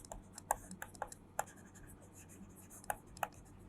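Pen or marker writing on paper or a board during a math lesson, heard as a handful of short, quiet scratching strokes with pauses between them, close and faint against a low room hum.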